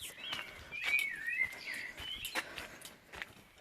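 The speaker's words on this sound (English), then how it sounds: "Can you hear those birds?" Birds singing outdoors on soaking wet ground, clear bright chirping phrases fairly close, with scattered footstep-like taps beneath and no talking.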